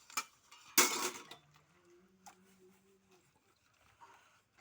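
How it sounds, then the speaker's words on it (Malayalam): Dishes being washed at home: a loud clatter of pots and utensils knocking together, then softer scattered clinks and taps close by, with a faint voice briefly in the background. "ഞാനൊന്ന് പാത്രം കഴുകാൻ പോവാണ്."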